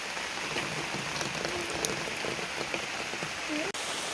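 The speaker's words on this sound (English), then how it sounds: "It is pouring down rain." Heavy rain pours steadily on a campsite, a dense continuous hiss of drops drumming on surfaces with a few louder splats and faint background voices.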